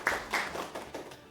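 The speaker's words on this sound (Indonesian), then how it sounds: "Tepuk tangan buat semuanya." A small audience claps for all of the discussion groups, giving a few faint, spaced bursts of handclaps at a modest distance that fade out quickly.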